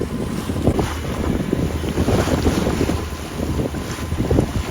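A sailboat running west under sail along the south coast of Union Island, with steady broadband wind rush, water hiss and hull noise throughout, loud and close, with gusting buffets on the microphone and no voices.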